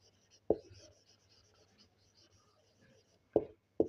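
Pen scratching on paper while a Class 9 maths solution is written out by hand, with faint strokes between a few sharper taps near the start and end and no speech over it.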